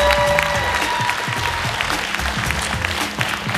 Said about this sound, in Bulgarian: Силни аплодисменти за тях.